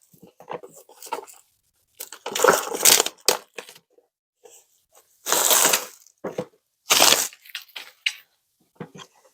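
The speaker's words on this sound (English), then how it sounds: "we got our handy dandy knife to cut into it" A knife slices into a pink cardboard box with close crunching and tearing noises that come in several irregular bursts with quiet gaps between them.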